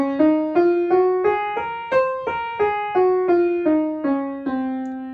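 Piano playing an ascending then descending C Locrian mode scale, single clear notes struck one at a time in a steady rhythm, each decaying briefly, heard alone without talk.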